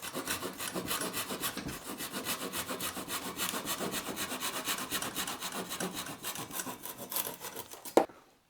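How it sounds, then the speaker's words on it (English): Steady back-and-forth strokes of a handsaw cutting a roughly 6-inch piece of scrap wood, fast and even, ending with a sharp knock as the piece drops free. "go ahead and cut a piece of just scrap wood about 6 inches long"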